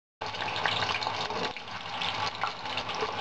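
Steady, close sizzling of diced potatoes frying in hot oil, a dense crackling hiss without a break.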